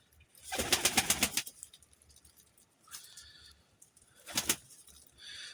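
Fluttery bursts of wing flapping from a pigeon, one long burst then shorter ones, close and moderately loud with quiet gaps between.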